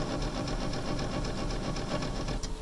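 A MaxxFan roof vent motor with its screen sucked into the motor, a steady rhythmic whirring drone with faint periodic ticking, close and continuous, a brief higher squeak near the end.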